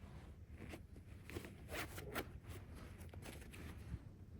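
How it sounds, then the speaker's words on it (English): A zipper on a hidden pocket of Vertx PhantomLT tactical pants being worked open, giving a few brief, close scratchy rasps and fabric rustles at a low level with no talking. "This is a hidden one right here with a zipper."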